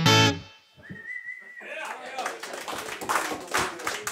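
A sharp whistle rises over audience applause and cheering at a live blues-rock concert in a café, with clapping building into a loud, continuous wash of hands.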